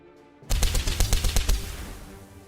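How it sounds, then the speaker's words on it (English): A tabletop Kill Team game, where a Recon Trooper opens fire: a rapid burst of about eight sharp gunshots, loud and close, with a brief decaying tail and no talk. "Recon Trooper Johans moves into position and opens fire on the Plague Bearer"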